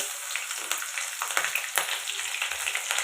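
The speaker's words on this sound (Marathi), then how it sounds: "अगोदर मी राई जिरं टाकणार आहे तेलामध्ये" Mustard seeds and cumin sizzle in hot oil for masala kande pohe, a bright continuous frying hiss with quick crackling pops and light stirring scrapes, close and fairly loud.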